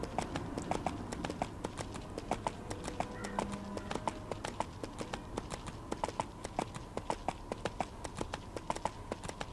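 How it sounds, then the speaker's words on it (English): Horse hooves clip-clop in a rapid galloping rhythm in the video game EverQuest 2 as a mount travels, steady and fairly close with faint ambient game sounds underneath. "And the horse will safely take you there."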